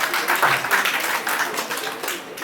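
Loud, dense applause from an audience at a Rajasthan awards ceremony, a continuous close roar of many hands clapping that carries on steadily throughout.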